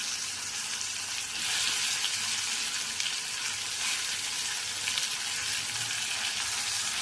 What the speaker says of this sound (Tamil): நல்லா எண்ணெயிலே வதங்கட்டோம்